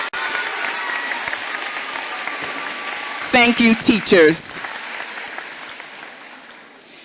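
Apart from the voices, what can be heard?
audience applause for teachers at a graduation ceremony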